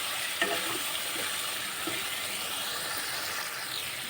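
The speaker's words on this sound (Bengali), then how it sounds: "ক্যাপসিকাম দিয়ে দেবো এখন এটাকে ভালো করে কষাতে হবে" Chopped capsicum being stir-fried in a pan with potato, tomato and paneer, a soft, even sizzle running throughout with a couple of faint stirring scrapes, close but fairly quiet and free of speech.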